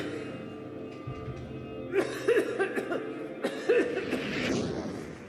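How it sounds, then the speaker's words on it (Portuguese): A woman gives a few dry coughs, short and clustered, heard fairly close over a low hum of room noise with quiet stretches between bursts. "Ela está com febre e tosse seca."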